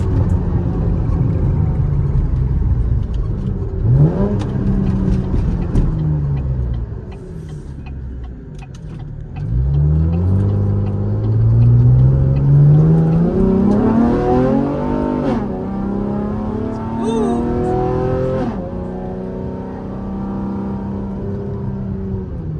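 A fifth-generation Chevrolet Camaro with a V6 engine accelerates hard with its wheels spinning. The engine note rises and falls in loud, close sweeps for about twenty seconds, with no talk over it.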